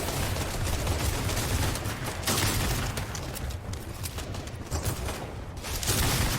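Gunfire crackles through a video game match in a grand final esports tournament, with dense, continuous shooting and sharp bursts over a steady bed of battle noise, no voices.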